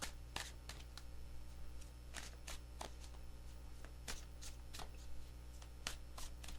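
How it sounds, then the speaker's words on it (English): Tarot cards being shuffled by hand in a run of crisp riffling bursts at an uneven pace, close and fairly quiet over a low steady hum, with no talking. "Three shuffles."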